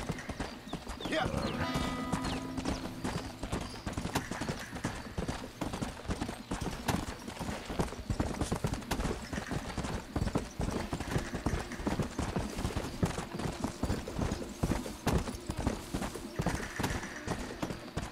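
Steady clip-clop of horse hooves trotting at a regular rhythm in the video game Red Dead Redemption, with a brief whinny early on and muffled voices in the background.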